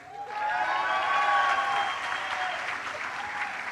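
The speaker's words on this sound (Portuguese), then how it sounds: "Vamos aplaudir realmente" A church congregation claps after a baptism during a Sunday evening service, steady sustained applause that swells and then eases slightly, with a faint musical tone ringing underneath.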